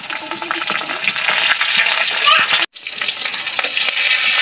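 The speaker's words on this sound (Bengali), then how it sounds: "তেল দিয়ে দিচ্ছি। কাঁচামরিচ দিলাম।" Green chillies fry in hot oil with a loud, steady, close crackling sizzle, broken once by a brief moment of silence before the sizzling resumes at full strength.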